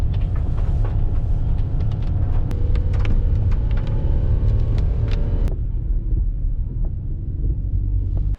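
A car drives toward a trailhead near Mt Fuji with a steady low engine and road rumble heard from inside the cabin, loud and constant, with small clicks and rattles over it and no talk.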